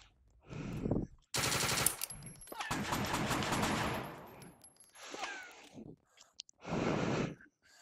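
Gunfire in a multiplayer VR shooter video game comes as several loud bursts of rapid automatic fire separated by short pauses, close and sharp.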